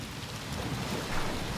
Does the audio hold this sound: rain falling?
yes